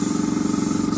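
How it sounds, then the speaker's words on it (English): An airbrush sprays dark paint onto a WWII Italian wargaming board, giving a steady, close hiss with a faint rhythmic pulse that runs unbroken for the whole second. "I'm going to use the airbrush to pick out some of"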